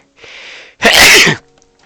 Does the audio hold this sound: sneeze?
yes